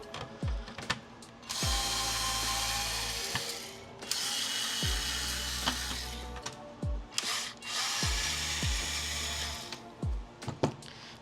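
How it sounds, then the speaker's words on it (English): A power drill whirs in several long, loud bursts close by while opening a fire-damaged NES console, each spin-up and stop separated by brief clicks and pauses. "Power drill."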